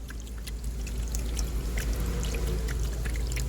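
Water sprays steadily onto a BMW F10 5 Series during a rear-seat leak test, a continuous close hiss and patter of spray hitting the car body with no speech.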